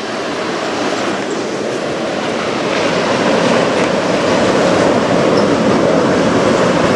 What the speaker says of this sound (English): CPKC train.